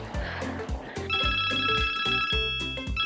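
Telephone ringing in repeated bright electronic tones that cut in and out rhythmically over a pulsing low musical beat, loud and close.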